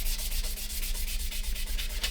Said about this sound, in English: What I'm going to do is just use the sanding side, just very lightly, just going to run it across the top.